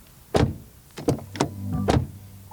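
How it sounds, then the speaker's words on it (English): A 2020 Opel Astra door swings shut, giving a few close, solid clunks and latch clicks in quick succession in a quiet setting. "Then here we go, door closing sound."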